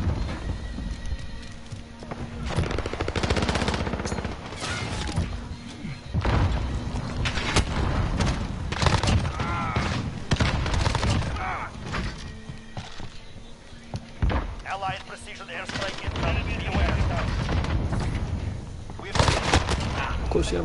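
Video game battle gunfire rattles almost nonstop, with bursts of automatic fire and single shots, loud and close, along with scattered explosions and occasional talk in the background.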